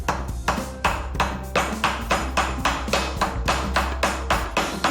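Whole spices are bashed inside a bag with a heavy tool, a steady run of about a dozen sharp, loud thuds at an even rhythm, each with a brief crunching crack, close up and without talk.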